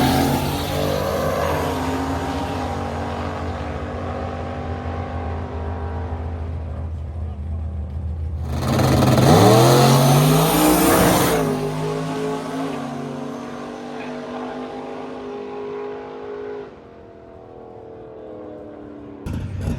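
A Nissan S-chassis drift car races on a track, its engine revving loudly as it passes close by mid-clip, then fades into a steady distant drone.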